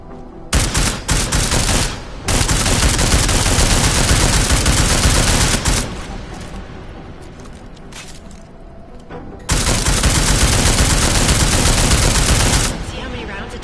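Rapid automatic gunfire firing armor-piercing rounds in the video game Deus Ex, loud sustained bursts separated by short pauses, with a quieter stretch of lighter shots in the middle before another heavy burst.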